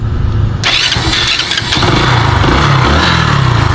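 A Kawasaki Bajaj Rouser 135 motorcycle engine turns over on its push-button starter and catches, then settles into a loud, steady idle close by.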